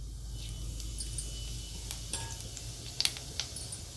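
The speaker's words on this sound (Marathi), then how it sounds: "आता जिरे चांगले तडतडले तळलेत" Cumin seeds crackle in hot oil in a kadhai, with a soft sizzle and scattered sharp little pops, close and fairly quiet, with no talking.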